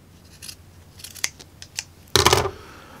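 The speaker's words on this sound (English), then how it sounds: "I'll cut a big section out right there" Scissors snip through denim on the side panel of an Air Force 1 sneaker, with a few light, separate cuts followed by one louder, longer crunching cut near the end, close up and without talk.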